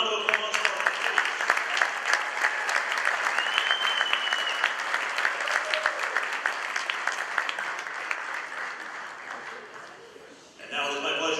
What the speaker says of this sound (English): Let's have another round of applause for our students.